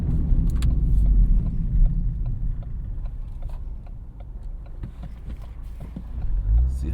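A Ford Fiesta ST driving in traffic, its engine a steady low rumble with road noise throughout, fairly loud and close from inside the cabin, swelling slightly near the end, with no talking.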